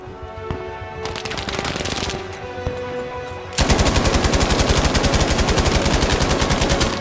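Gunfire in Battlefield V: low ambient battle noise gives way to loud, continuous rapid automatic fire that holds steady to the end.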